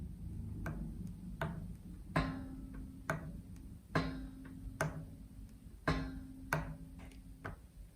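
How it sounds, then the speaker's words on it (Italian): An amplifier reverb spring damped with tape, struck repeatedly, each metallic clank cut short, about eight hits at uneven intervals with no talking. "la molla con nastro suona così."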